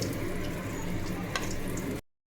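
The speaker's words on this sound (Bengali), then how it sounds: "কিছুটা পরিমাণে পটলগুলো এইভাবে সব ভেজে নেব" Pieces of pointed gourd (potol) fry in a pan with a steady, close sizzle and faint crackles, lasting about two seconds before cutting to silence.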